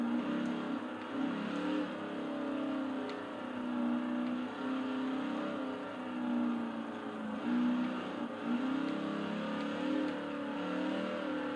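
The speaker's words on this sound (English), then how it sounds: "Man, this thing roars every time you put a little tap to the gas." A truck engine drones and surges as the throttle is tapped, a steady mid-pitched roar with rising and falling revs heard from inside the cab, with no one talking.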